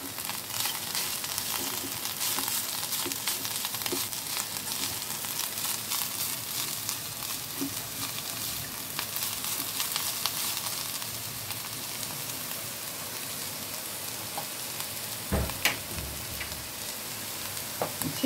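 Fried coconut dish with fried lentil bori being stirred in a hot pan, a constant loud sizzle and crackle of frying oil with occasional scraping knocks of the spoon near the end.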